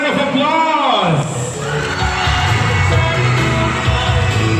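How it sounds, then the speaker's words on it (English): Loud crowd cheering and whooping with applause from the audience at the Miss Araw ng Bayan Siquijor 2019 beauty pageant, steady and continuous, with a host's voice over the start. "let us give our candidates for the Miss Araw Bayan Siquijor 2019 a warm round of applause"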